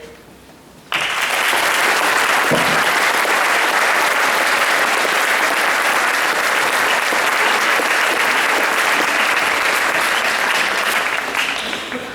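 An audience at a school Scholar Club ceremony bursts into sustained clapping that starts abruptly and holds steady and loud for about eleven seconds before tapering slightly.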